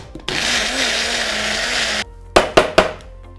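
A blender whirs steadily for about two seconds, emulsifying mashed banana with organic first-pressed rapeseed oil. The motor then cuts out, and three sharp knocks follow.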